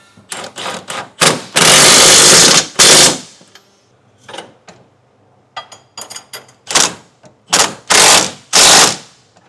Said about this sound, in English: Now we'll tighten down our frame bolts.